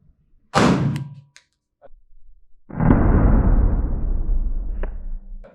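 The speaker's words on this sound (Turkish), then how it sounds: "Silah dolu. mermi ağzında. Evet. Atış var. Atış serbest." A Canik TP9 Elite-S pistol fires on a shooting range: a sharp report early on, then a second, heavier blast whose boom rolls on for several seconds.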